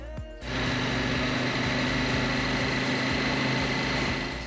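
A CFMOTO 800 MT motorcycle engine starts and then runs steadily at a low rumbling idle in a quiet night setting, close and even with no talking.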